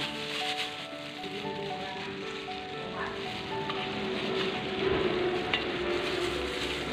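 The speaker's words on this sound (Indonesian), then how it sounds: "Selanjutnya kita akan memasukkan udangnya." Shrimp tipped into a pan over sautéed ground garlic and stirred, giving a steady loud sizzle and frying hiss with scraping and stirring sounds throughout.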